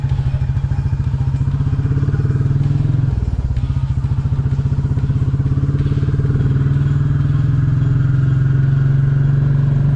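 A Royal Enfield Classic 350 motorcycle riding along at a steady pace, its single-cylinder engine thumping in a loud, even, close rumble, with one brief dip in pitch as it shifts gear.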